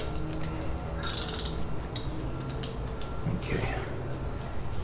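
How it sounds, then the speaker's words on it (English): Socket ratchet with a hex Allen bit working on the front brake caliper bolts of an Alfa Romeo Giulia: a short burst of rapid metallic clicking, then scattered ticks and clanks in a garage with low background hum. "Let's go ahead and remove the 2 brake caliper bolts."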